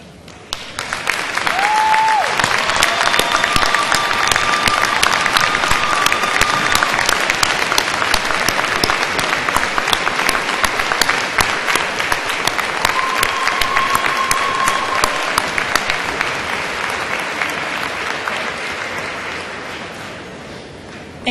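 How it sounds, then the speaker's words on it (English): A graduation commencement audience claps at length in honor of families, a thick steady wall of applause lasting around twenty seconds before tapering slightly, with faint voices underneath. "the faculty, staff, and graduates may applaud you on this very important day"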